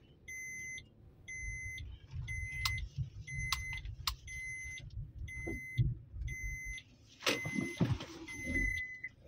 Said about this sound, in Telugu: ఇప్పుడు ఇన్నోవా అయితే ఒకటి వస్తూ ఉంది, అది వెళ్ళిపోతే టర్న్ చేసుకునేస్తా